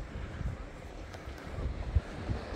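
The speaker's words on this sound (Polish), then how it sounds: "A na plaży, słuchajcie, nie wieje. Lekko tam delikatnie podwiewa troszkę wiaterek." Light breeze on a beach at Binz on the Baltic coast, a soft, low rumbling buffet of wind across the microphone with faint gusts, fairly quiet and steady.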